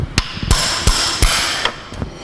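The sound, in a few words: hammering a knock-off spanner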